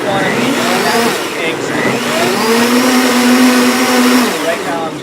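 A blender runs loud and close for the whole stretch, beating pancake batter for Swedish pancakes with thick raw honey, its steady whir rising and dipping slightly in pitch.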